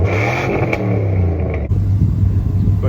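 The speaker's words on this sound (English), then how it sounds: "This is what it sounds like idling." A 1996 Dodge Ram pickup's engine idles steadily up close, a deep continuous rumble with a faint whine above, loud and alone with no voices.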